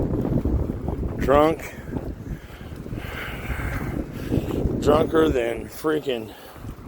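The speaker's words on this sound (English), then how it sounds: "Wow, look how windy it is." Strong wind gusting outdoors on a street beside a parked van and a street lamp, a steady broadband roar running throughout as a person talks over it.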